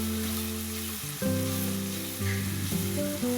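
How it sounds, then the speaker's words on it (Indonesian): Chili sambal fries in about 200 ml of cooking oil, giving a steady, dense sizzle with a few stirring shifts. A low hum sits underneath and no one speaks. "setelah selesai menggoreng daging, lanjut kita memasak sambal"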